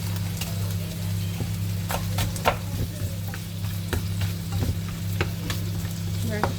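Frozen vegetables sizzle and crackle steadily in a hot frying pan at home, with scattered sharp clicks and scrapes of a utensil stirring them throughout; no one speaks.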